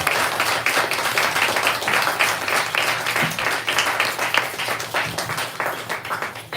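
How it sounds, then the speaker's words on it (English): At a bookstore author event, an audience gives a big round of applause for the speakers after a discussion, with loud, sustained, dense clapping that carries through the whole stretch. "let's give Doug and Joseph a big round of applause."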